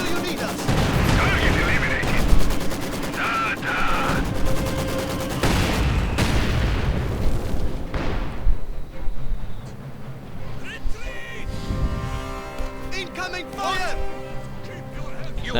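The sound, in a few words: bombardment and gunfire in video game Company of Heroes 2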